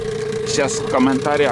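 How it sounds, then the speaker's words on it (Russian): Mikatsu 9.8 two-stroke, two-cylinder outboard motor running during break-in, a loud steady droning hum close by under someone talking. "Вроде все моторы так трясутся. Мотор двухтактный, 2 цилиндра."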